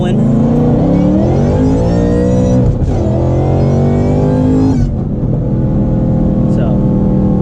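A powerful car accelerates hard in second gear, the engine loud and close with a rising roar that holds steady, then a brief dip as the revs shift and climb again.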